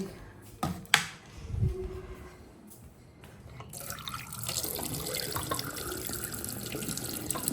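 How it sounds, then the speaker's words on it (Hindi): Water runs from a tap for hand washing, beginning after a few clicks and knocks and then flowing as a steady hiss that continues near and moderately loud. "अच्छे से हैंड वॉश कर लो।"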